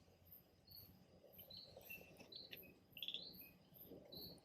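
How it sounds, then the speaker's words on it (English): Insects chirping at night at a wild campsite in Brazil: a dense, steady chorus of high-pitched crickets pulsing continuously, soft and distant-sounding, with no voices. "There's plenty of insects going crazy."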